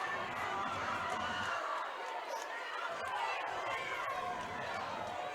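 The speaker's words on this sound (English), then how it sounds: "Crowd's into it now." Spectators at a state 2A high school softball championship, Enterprise against San Juan, shouting and calling out in a continuous rowdy din of overlapping voices, moderately distant and unbroken.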